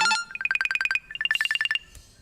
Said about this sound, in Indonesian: kok nelpon terus ya, padahal udah saya tolak di telepon ini